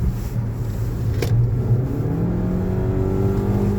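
A new-model Mazda CX-5's engine revs up, its pitch climbing steadily as it accelerates, heard close and fairly loud with road noise underneath.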